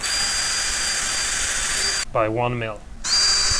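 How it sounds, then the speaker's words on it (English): A power drill with a metal-cutting bit enlarges a hole in a handmade guitar pick box, a loud steady whine that stops for about a second while a voice speaks, then resumes. "So I'm going back again with a metal cutting drill bit"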